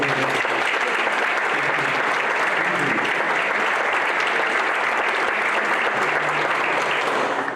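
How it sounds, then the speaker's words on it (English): Sustained, loud applause from the audience at a Rotary club meeting, steady and unbroken across the whole stretch, with faint voices mixed in. "So again, round of applause for all Cincinnati Police Department."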